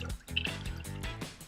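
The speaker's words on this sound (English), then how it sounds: "get the rest of our water and" Water is poured in to top up a carrot cake wine batch, a soft, steady gurgling trickle with faint splashes, quiet and close throughout.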